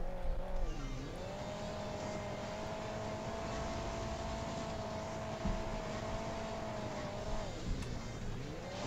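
A muscle car on nitro in the mobile game Hill Climb Racing 2 gives a loud, sustained engine drone that bends down and then holds a steady high pitch for several seconds before dropping off.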